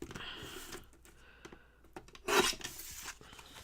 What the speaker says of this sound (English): I'm just going to trim the sides a little bit.